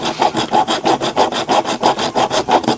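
Steady back-and-forth rasping of a hand file cutting an angled bevel into an aluminum piece, about ten even strokes in under three seconds, close and loud with no talking.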